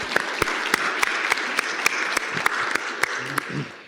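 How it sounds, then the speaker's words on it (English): Conference audience applause with a dense wash of many hands, a few sharp, louder claps standing out near the recorder, tapering slightly at the end. "Let's give these guys standing a hand of applause."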